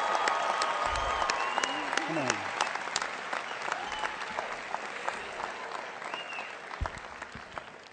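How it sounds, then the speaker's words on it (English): An audience at a motivational talk applauds loudly, dense clapping that slowly tapers off, with a few scattered shouts and cheers mixed in. "Give yourselves a round of applause."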